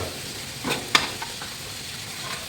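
Radish sambar being stirred in a cooking pot, with faint scraping and a few soft clicks, including one sharper knock near the middle, over a quiet room hiss.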